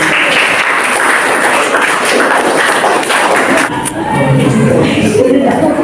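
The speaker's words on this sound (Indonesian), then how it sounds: "kita beri tepuk tangan dulu untuk Hafiz" A classroom full of students claps together for a classmate, giving steady, loud applause with scattered thumps that fades slightly near the end before picking back up.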